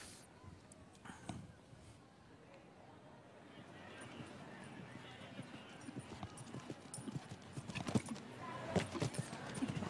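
Hooves of a Holsteiner show jumping horse thudding on the arena surface during a jump-off, growing louder and busier toward the end beneath continuous French commentary.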